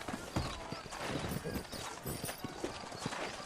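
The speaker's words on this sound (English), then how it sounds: "You ain't gonna find sturdier horses than these in all of New Ulster." Horse hooves clip-clop in a Western video game as horses are led out of a frontier town, with quick, uneven steps close by and faint talk underneath.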